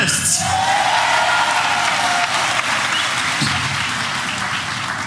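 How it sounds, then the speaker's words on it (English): Dense, loud applause from a political rally crowd in eThekwini, steady throughout, with cheers and whoops mixed into the roar. "let's give a round of applause for all of our activists"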